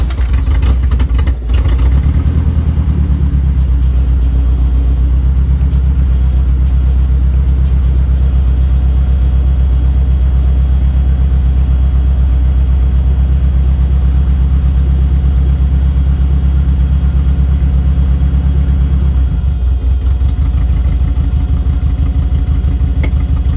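A Toyota van engine runs steadily after its first start, in neutral with the power steering belt spinning, giving a loud, continuous low rumble close by that holds even throughout.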